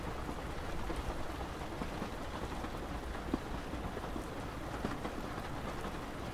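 Steady rain falls in a soft, even wash with scattered drop patters, an unbroken ambient hiss at a gentle, moderate level with no voices.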